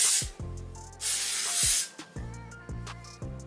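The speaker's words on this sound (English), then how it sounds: "I'm gonna do one little spray up for you guys" A loud, sustained hiss of hairspray from an aerosol can, then a shorter burst, set between plastic clicks and rattles from handling the can.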